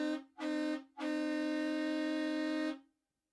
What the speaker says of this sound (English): So this is the honk honk that we have for the rest of the season as a sounder